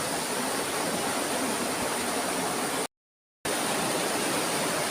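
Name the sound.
waterfall and strong water current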